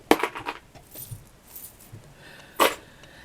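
A small metal key dropped among beads and chains in a craft kit gives a few light clinks and jangles, the sharpest at the start and near the end, faint and close.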